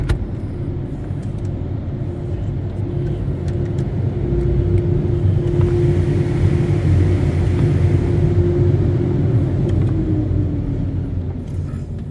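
A Ryko SoftGloss Maxx soft-touch car wash at a Shell gas station runs from inside the car. A steady, loud mechanical rumble and whir holds throughout, with a sustained motor hum swelling midway.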